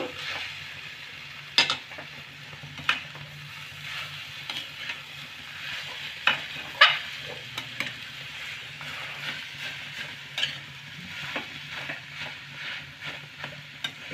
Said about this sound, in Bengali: মটর দিলাম ভালো করে নাড়িয়ে নেব